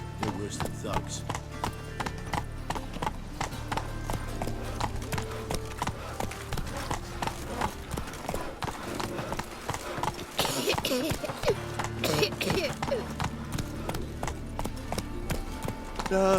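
Horse hooves clip-clop in a steady trotting rhythm on city streets in The Witcher 3, close and continuous, with voices talking over them.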